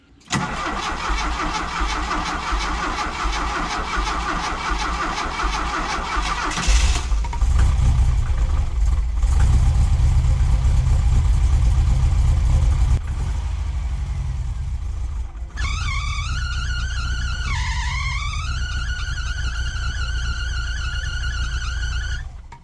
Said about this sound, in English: We have ignition and it actually ran and idled pretty nicely.